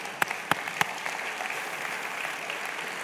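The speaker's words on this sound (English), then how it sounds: "Applause for Barry." A conference audience applauds for Barry with steady, fairly close clapping, a few sharp individual claps standing out at the start.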